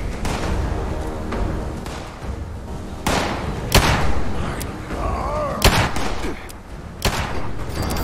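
A pistol fires in Fallout 76: a few sharp, punchy reports spaced a second or so apart, loud over a constant rumbling game soundscape with scattered other effects.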